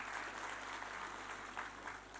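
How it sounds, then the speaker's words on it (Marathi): An audience claps at the award ceremony of the 34th Maharashtra State Marathi professional drama competition final, heard as a faint, steady wash of many hands applauding at a distance. "त्यासाठी आपण पुन्हा एकदा सरांसाठी टाळ्या वाजवूया"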